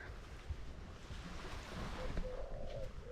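Surf on a Dominican Republic beach, a steady wash of breaking waves and wind noise filling the whole stretch without any talk.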